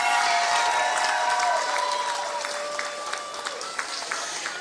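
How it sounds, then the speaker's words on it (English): A graduation audience applauds, a dense spread of clapping from a crowd with scattered cheers and a few voices, fading slightly as it goes on. "Seniors, give your parents and teachers a big round of applause."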